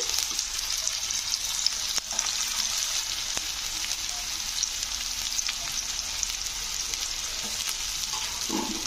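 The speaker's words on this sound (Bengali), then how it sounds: "পেঁয়াজগুলোকে একটু লাল লাল করে ভেজে নিতে হবে" Two large onions fry in hot oil with a constant bright sizzle and crackle, broken by a few faint clicks and taps of a utensil in the pan.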